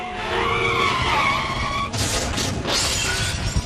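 Car tires screech in a loud skid amid Indian traffic, followed by a harsh crash and clatter partway through, close and with no voices.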